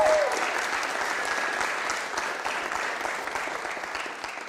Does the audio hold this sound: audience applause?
yes